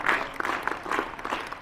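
Students in a school group clap together in a dense, loud burst of applause that continues steadily throughout, close and energetic, with no talking over it.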